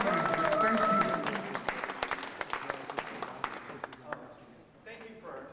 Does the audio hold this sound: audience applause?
yes